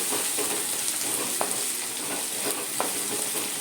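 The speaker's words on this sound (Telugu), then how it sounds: "పచ్చిమిర్చి కూడా వేసుకోవాలి కలుపుకోవాలి మంచిగా ఇవి కొంచెం బ్రౌన్ అవ్వాలి" Green chillies frying in a pan as they are stirred, a steady close sizzle with a couple of sharp scraping clicks from the stirring, no voices.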